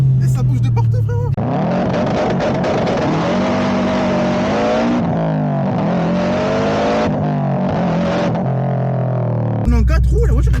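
A 400 hp Subaru STI Stage 2 in four-wheel drive accelerates hard on a closed road, its engine note rising loud and sustained through gear changes with tires slipping, while people talk over it.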